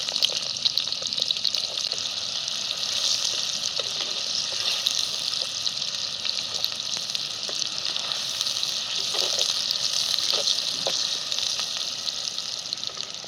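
Onion sizzling in hot oil with whole spices, star anise, cinnamon, cloves, black pepper and curry leaves, for vajri dal: a steady, loud frying hiss running throughout with small crackles and pops.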